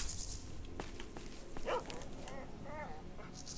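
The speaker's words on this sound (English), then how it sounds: "Dog's running into an anomaly." A dog whimpers and yelps in S.T.A.L.K.E.R. (OGSE Shadow of Chernobyl mod) after running into an anomaly. A few short whining cries come mid-range over constant hissing game ambience, with faint scattered clicks before them.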